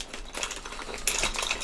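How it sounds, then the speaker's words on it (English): Car keys dropped into a small luxury handbag, a quick run of light metallic jingles and clicks that gets louder toward the end, close up with no talking. "So I'm just going to put some of my car keys as well."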